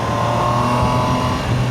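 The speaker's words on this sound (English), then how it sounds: "let's take a look how the bike behaves on speedy roads" A Triumph Tiger Sport 800 motorcycle accelerating on a fast road, its engine giving a steady, loud drone heard up close from the rider's position, with no talk over it.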